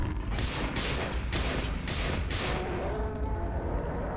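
An assault rifle loaded with anti-personnel rounds fires loud, close bursts in System Shock 2, a few rapid volleys in a row before fading into mechanical rattling.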